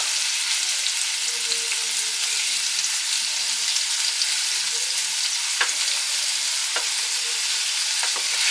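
Salmon fillets fry in a pan with a steady, loud sizzle, and a few sharp scraping clicks and taps mark each piece being flipped.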